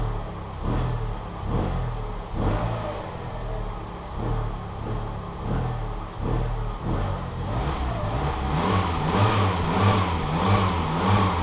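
A Fiat 500 engine blipped repeatedly, rising and falling revs in short bursts over a steady idle, loud and close with no one speaking.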